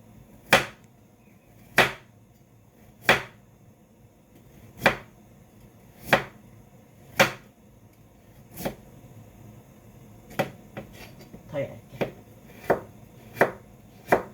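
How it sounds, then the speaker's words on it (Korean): A knife strikes a cutting board while julienning vegetables, with sharp, evenly spaced chops at first and then quicker, uneven strokes clustered near the end, close and clear in a quiet room. "이렇게 한번 채쳐 보겠습니다"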